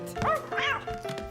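A dog gives a quick series of short, high yapping barks, three or four in a row, close and moderately loud, in a park.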